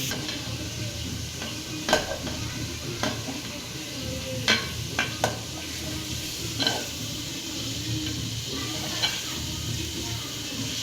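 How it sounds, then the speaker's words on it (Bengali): Moch fish is stir-fried in a pan like meat. A steady background sizzle runs throughout, broken by sharp, scattered scraping clicks of a spatula against the pan. "মাছগুলো এখানে কিছুক্ষণ কষানো হবে।"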